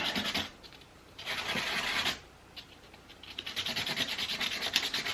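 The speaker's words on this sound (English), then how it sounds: "I'm going to kind of give this dowel a little sand down real quick to make sure it's not got any burrs." A wooden dowel sanded by hand to knock off burrs, heard as close, raspy back-and-forth scratching strokes in bursts separated by short pauses, with no voices.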